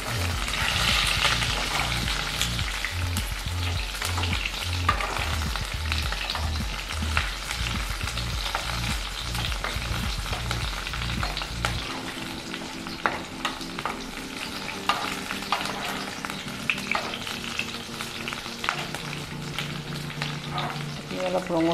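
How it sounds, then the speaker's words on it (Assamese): Chopped onions and green chilies fry in a pan for an Assamese pumpkin dish, a steady loud sizzle with stirring scrapes, heavier clatter in the first half, then a smoother continuous hiss. "কাটি থোৱা পিঁয়াজখিনি আৰু জলকীয়া কেইটা দিলোঁ।"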